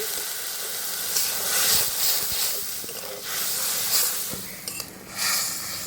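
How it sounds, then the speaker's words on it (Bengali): Ground cumin and coriander paste with turmeric and salt frying in a pan for a Bengali fish curry as a splash of water goes in, giving a steady steamy hiss and sizzle that swells and eases, with faint scrapes. "জিরা ধনে বাটা, হলুদ গুঁড়ো, লবণ, সামান্য একটু জল দেবো মশলাটা কষানোর জন্য।"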